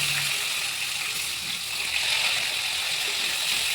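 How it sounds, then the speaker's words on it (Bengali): Pointed gourd (potol) slices frying in hot oil, a steady broadband hiss and sizzle that holds evenly throughout with no voices. "এবার পটলগুলো দিয়ে সুন্দর করে লাল লাল করে ভেজে নিতে হবে"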